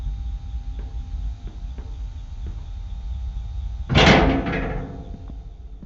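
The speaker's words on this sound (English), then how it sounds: "You can now open the elevator using that bright, red, and obvious button." Elevator door in the video game Five Nights at Freddy's Sister Location, a low mechanical hum with soft ticks, then one loud sliding clunk that fades quickly.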